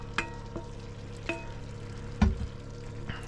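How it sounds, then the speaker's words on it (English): Stir-fry with General Tso sauce sizzles and fries in a pan as it is stirred, a steady low sizzle punctuated by a few sharp clacks of the utensil against the pan. "And kind of stir it all together."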